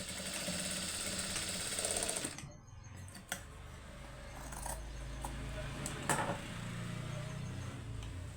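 Sewing machine stitching piping onto a blouse, a busy whirring hum with rapid mechanical chatter that stops briefly, then resumes with a few knocks.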